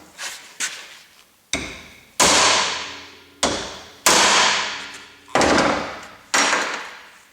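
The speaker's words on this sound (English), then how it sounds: "And I'm going to hammer away and see if I can not wreck this shaft." Hammer blows strike a staked U-joint on a Honda CR-V driveshaft: about nine sharp metallic whacks at an uneven pace, each ringing out and decaying, loud and close with no talk.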